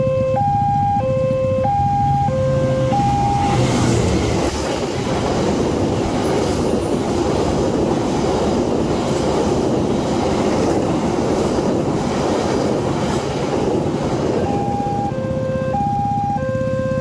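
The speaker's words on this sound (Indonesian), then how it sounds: "Persiapan melintas Sang Raja Selatan, kereta api nomor 5C Argo Wilis dari Surabaya Gubeng tujuan Bandung." The Argo Wilis passenger train passes a mechanical level crossing near Haurpugur station on its run from Surabaya Gubeng to Bandung, making a loud, sustained rolling rumble. A melodic chime sounds alone before the train arrives and again after it passes.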